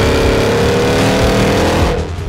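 A 2023 Cadillac Escalade V's supercharged 6.2-liter V8 roars loudly and continuously at close range with a deep, rising engine note, then eases off sharply near the end, with no talking.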